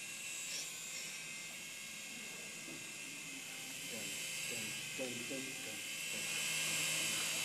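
A SYMA S107 toy helicopter flies indoors with a thin, steady electric whine and buzz from its small rotors, rising slightly toward the end, while people talk and react in the background.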